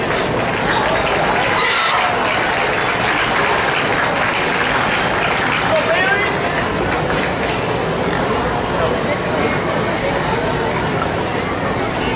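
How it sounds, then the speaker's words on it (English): An audience in a show ring at a driving event gives sustained, dense applause, loud and continuous throughout. "let's give him another round of applause"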